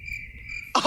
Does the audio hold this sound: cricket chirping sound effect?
yes